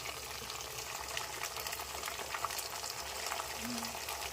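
Finely chopped tomatoes dropped into a hot pan for a Bombay chutney, giving a soft, continuous sizzle and faint frying crackle, quiet and unbroken, with no talking.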